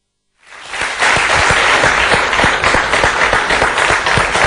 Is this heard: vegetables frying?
no